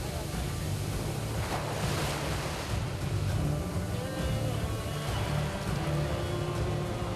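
Rough Indian Ocean surf off Kovalam, South India, where fishermen work: a steady, dense roar of breaking waves with wind buffeting the microphone throughout, and a voice is faintly present.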